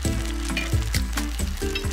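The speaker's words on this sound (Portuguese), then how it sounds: "E aí já transfere, assim, um tanto de nhoque para a frigideira." Sweet potato gnocchi hiss and sizzle steadily in hot olive oil in a frying pan, a loud, close, continuous crackle with small bursts as pieces settle, no voices.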